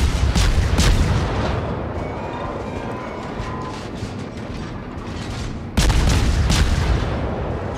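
Heavy naval gunfire in the warship battle game World of Warships: loud, deep booming salvos open the clip, a rumbling roar sustains between them, and another sharp broadside blast erupts near the end.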